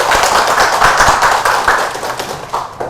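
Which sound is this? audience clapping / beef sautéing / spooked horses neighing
audience clapping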